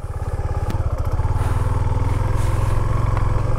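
Motorcycle engine running steadily and close as a ride sets off on a Rajasthan road trip, a dense low throbbing rumble that holds loud throughout with a slight rise in revs.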